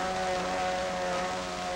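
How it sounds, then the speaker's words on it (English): A vintage Mercury racing motorboat engine drones steadily with a tonal, buzzing hum, sounding moderately distant and faint, with no voices. "Around the point here comes the lead boat."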